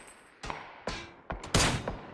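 Gunfire in the PUBG battle royale game: several sharp, loud shots spaced apart, ending in a quick burst of two or three close-range rounds, with no talking.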